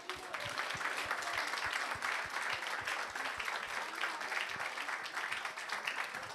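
A congregation at a pastor's consecration service claps together in a sustained, moderately distant round of applause, with individual hand claps audible through the mass and no voices over it.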